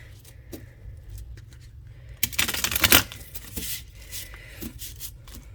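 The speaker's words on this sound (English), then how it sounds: "let's give it a good shuffle." Quiet riffling and soft slaps of tarot cards being shuffled, with a louder burst in the middle and scattered light handling noises around it.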